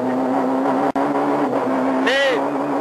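A French Kit-Car rally car's engine holds a loud, steady drone at full throttle, with a brief dropout partway through and a short rising whine near the end.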